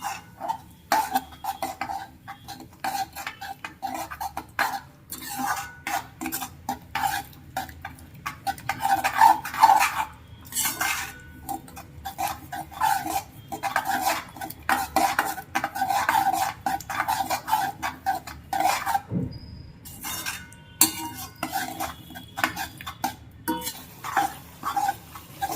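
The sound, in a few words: stirring yogurt into dum aloo gravy in a pan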